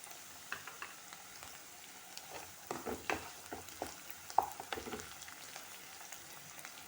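Curry leaves go into softened onions frying for Malvani chicken masala, a faint crackling sizzle broken by scattered spatula scrapes and clicks, close but quiet, no talk.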